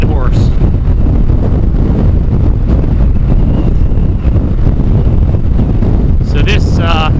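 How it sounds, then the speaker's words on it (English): Strong gusty wind buffets the microphone on the open North Slope plain near Deadhorse, Alaska, a loud, constant roar that fills the whole clip as a vehicle rides out of camp. "So this gusty, windy plain here is the North Slope."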